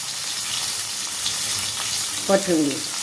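Green chillies and coriander fry in a pan over lowered gas with gram flour, giving a continuous sizzle while a spoon stirs, with a brief scraping clatter near the end.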